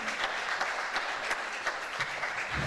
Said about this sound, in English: A round of applause for him, please, as a celebratory recognition